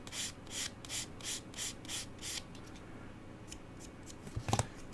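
A fairly coarse sanding stick rubs along the edge of a Warhammer 40K Valkyrie model kit part in a rhythmic series of about seven short scratchy strokes, then a few lighter scrapes and a brief clatter, close up with no talking.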